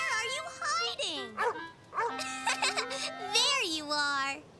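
Cartoon puppy yips and barks in short, close, high-pitched bursts, mixed with a voice talking in an animated children's show.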